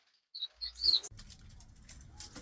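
Red canaries in a breeding room give a few bright chirps and short calls early on, then a low continuous room rumble with faint scattered high tweets behind it.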